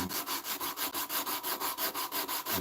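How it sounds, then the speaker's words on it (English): Wood being sanded by hand with sandpaper as a pre-finish, a steady back-and-forth rubbing rasp in a quick regular rhythm of about five strokes per second, close and clear with no talk. "I think we can go ahead and hit that with some sandpaper again."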